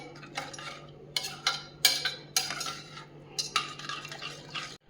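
A spoon scrapes and knocks through vegetable pulao inside a pressure cooker as salt is mixed in, giving a series of close, uneven metallic stirring strokes over a quiet background.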